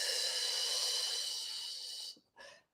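A long, steady meditative breath flows out as a broad airy hiss for about two seconds, then a short, softer breath follows after a brief pause, close and alone.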